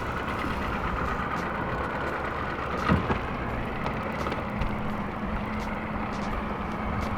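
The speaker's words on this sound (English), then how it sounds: "So I'm going to turn the motor back on here." A fishing boat motor runs steadily on a crappie fishing trip, a low continuous engine drone with slight irregular knocks, close and unbroken.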